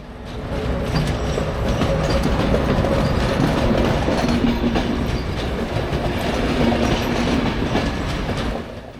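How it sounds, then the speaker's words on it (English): A Regiojet express train in Poland rolls into a station from the sidings with a loud, continuous rumble and rhythmic wheel clatter, building in as it nears, then easing off at the end. "our train is now pulling in from the sidings just behind the station"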